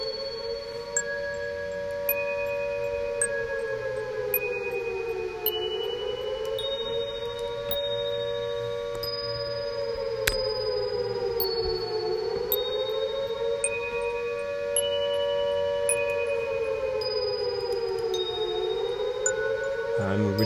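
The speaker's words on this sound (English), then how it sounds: "I have a siren coming in." A synthetic siren from Max-MSP live improvisation software wails in slow, rising and falling sweeps, steady and moderately loud, with thin electronic tones blipping above it.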